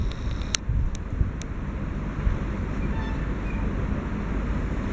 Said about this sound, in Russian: Вот можно отсюда наблюдать, как ветер колышет этот несчастный флагшток.